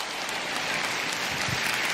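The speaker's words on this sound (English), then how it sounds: "Let's clap it up for these guys." Audience at a business talk applauding steadily, a dense wash of clapping at moderate loudness, brief and without speech.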